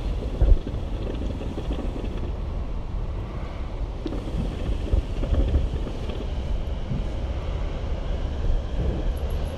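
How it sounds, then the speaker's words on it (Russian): Wind blows steadily across the microphone, a constant low rushing noise with a few soft bumps, fairly quiet and without any talking. "дует ветер, это все раздувает"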